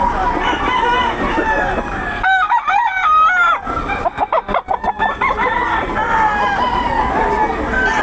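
Gamefowl roosters crow repeatedly at a cockfighting breeders' gathering, several overlapping calls near and loud, with background voices and crowd babble throughout.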